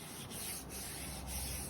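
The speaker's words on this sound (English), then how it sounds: "So I'm going to continue rubbing the other half of the roof" Sandpaper rubbing down primer on the roof of a Holden VS Commodore, a continuous close scratchy hiss in short rhythmic back-and-forth strokes.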